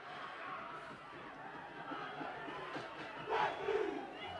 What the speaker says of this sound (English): Crowd starting to warm up.